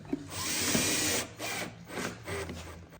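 A power drill bores pilot holes for 3mm by 45mm screws in wood for bathroom cabinet carcasses, a close, loud whir followed by several shorter bursts in quick succession.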